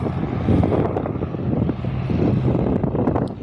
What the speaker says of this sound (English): Cessna 404 Titan, is now taxiing out for takeoff